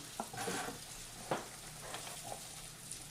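Butter melts in a hot pan, giving a quiet, steady sizzle with a few soft stirring clicks and scrapes, no voices.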